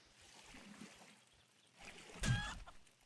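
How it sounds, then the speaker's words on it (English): A chicken in the survival game 7 Days to Die gives a short burst of clucking near the end, loud and close, after a stretch of quiet ambient background. "There's a chicken."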